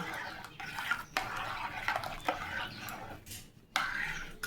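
Fruit juice is stirred in a pot with a utensil, giving repeated soft scraping strokes and light clinks against the pot's sides. The sounds come in irregular bursts and are close and quiet.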